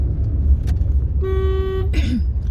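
Stopped road traffic in a jam on a hot sunny day, with one car horn giving a single sustained honk mid-clip over a steady engine rumble, then a brief second toot; faint voices in the background.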